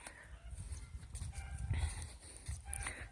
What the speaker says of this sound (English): it sounds like chickens over there